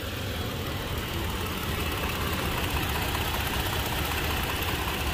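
A 2021 Toyota Tacoma engine idles steadily, a continuous low rumble with a faint ticking near the high-pressure fuel pump, recorded up close with no talking.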